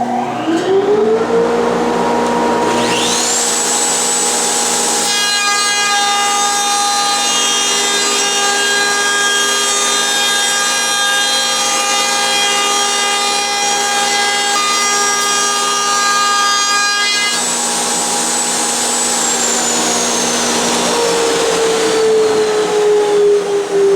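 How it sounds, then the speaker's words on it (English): A small router table cuts a beveled edge along wooden workbench front pieces, its motor holding a loud, steady whine with a rising pitch at start-up and a winding down at the end, as the bit grinds continuously through the wood. "So I clamped my dust protection onto this little router table to put the beveled edge on the fronts."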